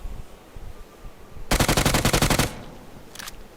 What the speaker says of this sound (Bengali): তো স্মোকে প্রি ফায়ার দেই